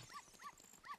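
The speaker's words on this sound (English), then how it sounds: "Got a dog following me." Dog in The Legend of Zelda: Ocarina of Time randomizer, three short faint yips or barks evenly spaced about a third of a second apart over quiet game ambience.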